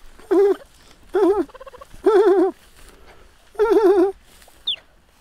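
A cheetah gives four loud, close, bird-like chirps in an uneven rhythm, with a brief quieter squeak at the end.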